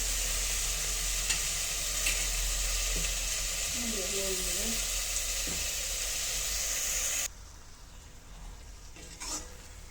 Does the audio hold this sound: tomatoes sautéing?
yes